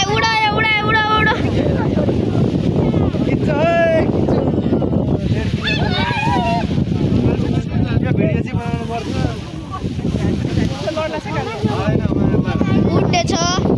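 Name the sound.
wind blowing during a paraglider launch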